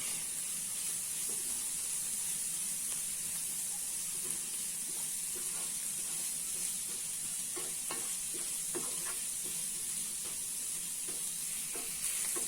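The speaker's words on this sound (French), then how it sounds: "Et on remue." Mutton filling for msemen sizzles steadily in a pan while being stirred, with faint scraping clicks over a constant frying hiss throughout.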